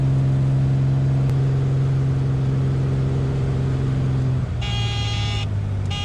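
A Beechcraft Bonanza piston engine drones steadily at takeoff power in the cockpit, then its pitch falls as power is reduced, and a high electronic warning tone sounds briefly.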